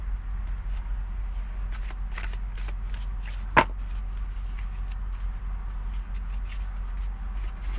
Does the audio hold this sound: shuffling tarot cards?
yes